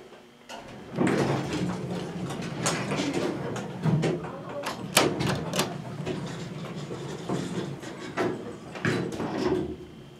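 Doors of an old Montgomery hydraulic elevator car sliding along their track, a steady rumbling, rattling motion with clunks and a sharp knock midway, close and fairly loud.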